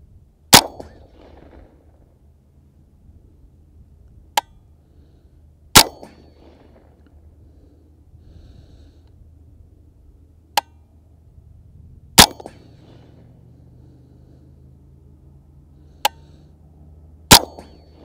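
Smith & Wesson M&P LR rifle fires about seven sharp, spaced shots at a target with a steel plate, each crack followed by a brief ringing tail, with quiet gaps between shots and no talk.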